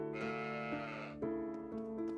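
A sheep bleats in the video game Trails of Cold Steel 4, one long wavering bleat followed by a shorter second call, clear and close over quiet game ambience.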